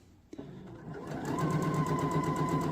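A sewing machine stitches a shirt seam toward the armpit, its steady rapid needle hum rising after a brief click and running continuously up close, with no talking.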